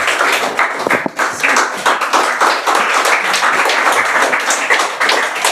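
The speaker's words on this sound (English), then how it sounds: "Everyone please clap for Zainab for getting third prize." A school audience at a Teachers' Day program claps for a third prize winner, a dense, steady burst of applause from many hands lasting several seconds, close and lively.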